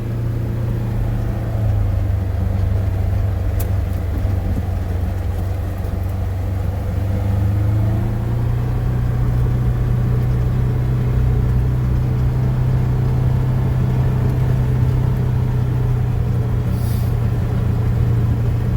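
A Polaris Ranger Northstar utility vehicle drives along farm ground beside cornfields in southern Illinois. Its engine gives a steady, loud, close rumble that holds for the whole stretch, with no talk.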